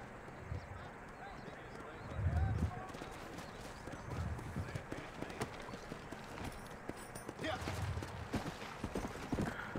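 Horse hooves clip-clop steadily through a Red Dead Redemption video game scene, with a brief whinny and game ambience around them and a voice talking over much of the action.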